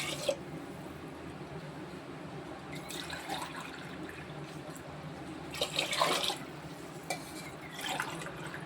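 Water is poured from a tumbler onto washed rice in a pot for curd rice, soft splashing and trickling with a fuller gush near the end, quiet and close.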